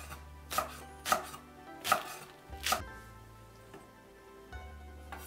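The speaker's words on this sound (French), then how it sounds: "Et je coupe aussi l'oignon blanc." A knife chopping a white onion on a cutting board, four distinct close thuds at a slow steady pace, then a quieter pause with a faint final tap.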